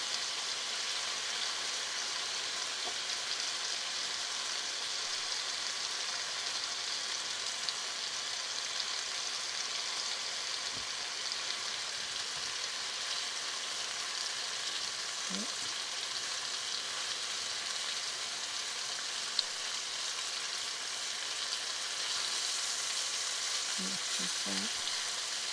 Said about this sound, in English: while frying, don't go anywhere. Stay with the chicken.